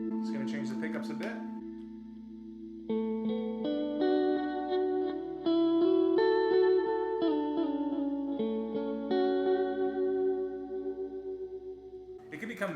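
Sustained electric guitar chords ring through a Westminster Effects Chrysostom chorus/vibrato pedal, shimmering and slowly wavering with a haunting, warbling modulation, with a few picked notes at the start and end.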